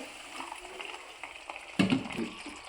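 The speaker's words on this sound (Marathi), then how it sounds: "थोडं थोडं पाणी ॲड करूया आपण यामध्ये" Hot water is poured into a simmering shev bhaji curry, a soft splash and bubbling sizzle near the end after a quiet stretch of low kitchen noise, heard close and alone.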